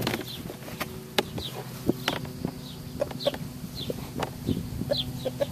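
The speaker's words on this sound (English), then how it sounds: "Release the rooster!" A backyard-coop rooster, just freed from under a laundry basket, clucks in repeated short bursts at close range, mixed with scattered knocks and light rustling.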